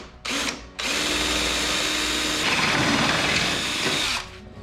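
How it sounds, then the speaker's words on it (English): A power drill boring out existing jack plate mounting holes on a jon boat transom: a brief spin-up, a pause, then a steady loud whining drill run of several seconds that stops abruptly. "So what I'm going to do now is drill out the current mounting holes that are already in place."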